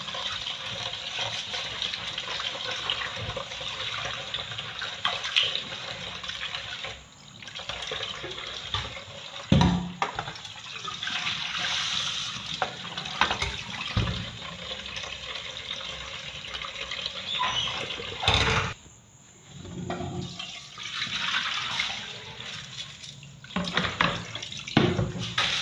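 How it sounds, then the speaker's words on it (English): Tap water runs into a pot while rice is rinsed for smoky jollof. A loud, continuous gush changes tone as hands stir and pour the grains, with brief pauses and clatters in between. No voices. "I wash it until the water is clear."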